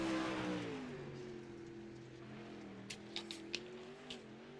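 A race car engine holds a steady drone on a qualifying lap, its pitch sliding gently as it passes at a distance, with a few faint sharp ticks near the end and no voices.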